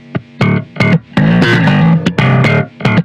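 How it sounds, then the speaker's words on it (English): Sample processed in Ableton with distortion and saturation, thin and bandless like an old radio or tiny speaker; loud, choppy bursts of harmonic-rich, compressed sound in a rhythmic pattern, with no talk. "And a little bit of distortion and saturation after that with raw."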